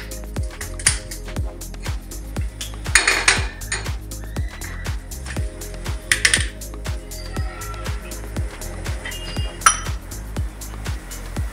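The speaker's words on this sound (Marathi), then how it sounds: "सर्वप्रथम मी पहिला कढई गरम करायला ठेवून घेते" A kadhai set on a home stove before cooking prawn rice (kolambi bhat) gives off sharp metallic clinks and clatter, with a steady regular ticking running through and a few louder clanks near the middle.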